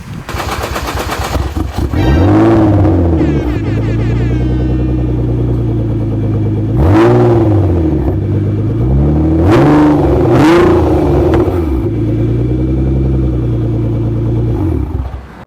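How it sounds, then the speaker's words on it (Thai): Loud, close revving from a Nissan GT-R R35 fitted with a titanium exhaust, with several sharp throttle blips and crackling pops rising over a steady deep idle, no talking. "อยากฟังเสียงท่อปะ"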